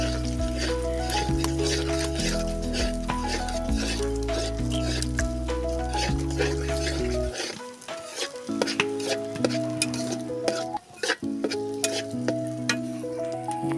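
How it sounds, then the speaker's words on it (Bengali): Egg frying in a pan over a wood-fired stove, a steady close sizzle under a loud low droning hum that drops away partway through, with scattered crackles continuing. "ডিমটা ভালো করে ভেজে নিব"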